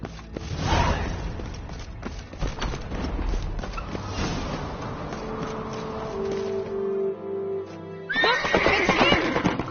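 A horse in The Witcher 3: Wild Hunt whinnies sharply amid hoof clip-clops and bustling game effects, followed by a quieter stretch before the hooves and action pick up again.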